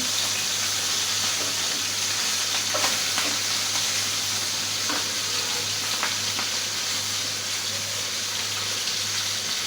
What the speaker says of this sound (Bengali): আমি হলুদ আর লবণ মাখিয়ে ইলিশ মাছের মাথাটা বেজে নিয়েছি